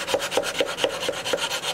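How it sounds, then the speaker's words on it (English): A small sanding block rubs back and forth over the wood of an old fiddle, giving a close, steady rasping scrape in an even rhythm of about four strokes per second. "Now I'll take this little sanding block and just kind of level it out a little bit"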